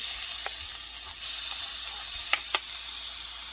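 Onions frying in a pan give a steady close hiss of sizzling, with a couple of brief clinks or stirs partway through and no voices.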